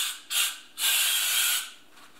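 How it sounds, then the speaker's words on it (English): VD40 silicone spray is sprayed into a mold for making a firesteel, giving a short hiss, a brief pause, then a longer, steady, close hiss that fades out. "I want to take my VD40 silicone spray and spray this out"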